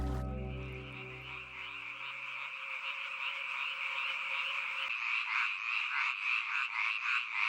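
Male tree frogs call in a loud chorus of rapid, rasping croaks that pulse continuously, growing more intense toward the end, while a low tonal hum fades out during the first few seconds.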